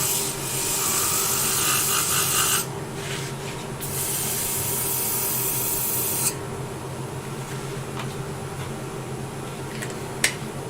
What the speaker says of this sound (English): So I'll just come down to here. Sand that into there.